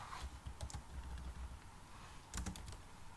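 Quiet, close typing on a computer keyboard while C code is written, with bursts of quick key clicks separated by short pauses.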